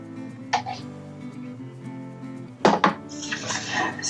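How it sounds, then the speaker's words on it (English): In an RV kitchen, coconut cream is stirred over berries in a bowl, with a brief clink early on, then a louder spoon scraping and clattering against the bowl, close by with faint background hum. "Stir it up a little bit."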